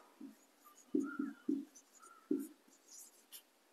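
A pen taps and scratches on paper during a biology lesson, making a handful of soft, close, irregular strokes in a quiet room.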